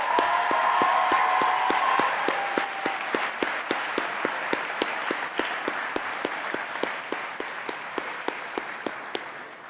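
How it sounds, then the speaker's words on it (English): A large audience at a Faculty of Health convocation ceremony breaks into sustained applause, loud and dense at first and easing to a steady, slightly thinner clapping that carries on throughout without speech. "Can you all please join me in thanking and applauding our amazing order for today"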